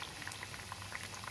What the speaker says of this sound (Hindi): इसमें बॉईल आ चुका है